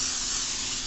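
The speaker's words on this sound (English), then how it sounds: "So I'm just gonna spray in there" A short, steady hiss of cooking spray released from a can into a baking dish, close and continuous for under a second.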